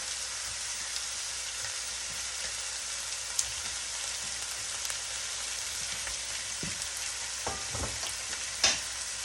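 Shrimp and shiitake mushrooms stir-fry in a wok for baked shrimp with glass noodles, making a steady hissing sizzle throughout, with a few clattering stirs and a sharp knock near the end.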